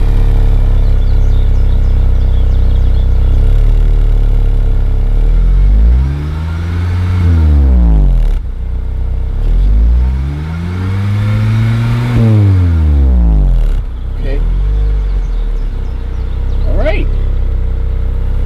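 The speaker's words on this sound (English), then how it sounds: "you might rev it just a little bit." An Acura RSX Type S engine with a slightly modified exhaust revs up twice from idle, rising sharply and dropping back, loud and close, with a constant low idle between.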